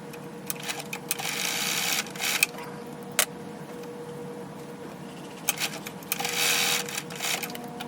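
Sewing machine stitching box pleats into grommet-top curtain panels, short rapid whirring bursts separated by pauses, with small clicks and handling noises in between, fairly quiet and close.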